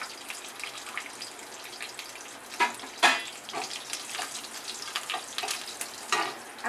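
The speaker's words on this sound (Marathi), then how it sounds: "आता त्याच्यामध्ये बघा जिरे मोहरी, कढीपत्ता चांगलं भाजून घ्यायचं" Cumin, mustard seeds and curry leaves fry in a pan with a steady close sizzle, broken by a few sharper spits and crackles.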